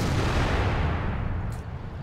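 A tank cannon firing in World of Tanks, a single heavy booming shot with a long rumbling low-end tail that fades over two seconds, loud and close with no talking.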